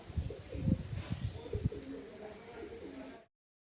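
Pigeons coo in soft, low, repeated throaty calls, fairly faint and close, several overlapping before the sound cuts off.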